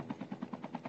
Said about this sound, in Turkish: Helikopter alıp geliyorum ben.